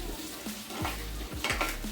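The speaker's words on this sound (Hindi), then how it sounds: "इस कच्चे आलू को मैं फ्राई कर रही हूँ।" Raw potato frying in a pan on a home stove, with a utensil stirring and scraping through it in several strokes over a steady background sizzle.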